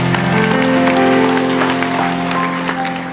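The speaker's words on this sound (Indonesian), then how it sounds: "Berikan tepuk tangan untuk Tuhan." A church congregation claps loudly during a sermon, a dense, sustained burst of applause over steady sustained musical tones, fading slightly toward the end.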